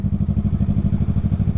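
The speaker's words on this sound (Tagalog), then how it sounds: "pan-trailing ng motor ang gamit natin, no? Pang off-road" A trail motorcycle ridden off-road, its engine pulsing in a fast, even thumping rhythm, close and loud for the whole short stretch.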